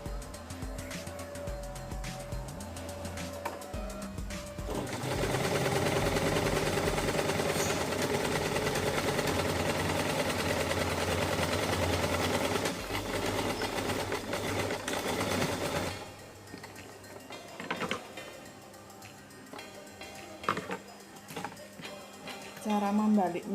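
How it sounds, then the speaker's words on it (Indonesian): A sewing machine stitches belt loops onto a trouser waistband in a loud, steady whirring burst of about eleven seconds, with quieter handling clicks and rustles before and after. "kemudian jahit sisi-sisi kolong sabuk."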